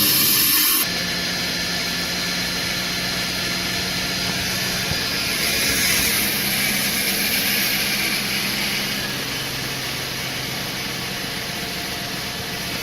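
Cadillac DeVille engine idling during a 4T80E transmission flush, a loud, steady broadband rush and hum that starts abruptly and holds unchanged for the whole stretch, with no talking.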